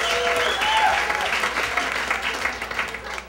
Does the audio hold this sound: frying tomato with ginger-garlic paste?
no